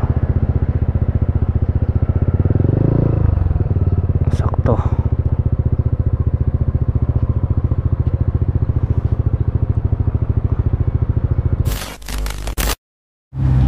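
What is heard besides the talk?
motorcycle engine idling while looking for parking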